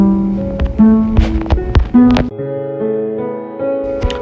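A bass guitar picks out the 1st, 3rd and 5th notes of a scale one after another, each note ringing clearly with sharp plucked attacks, then sustaining together in a clean, close solo line.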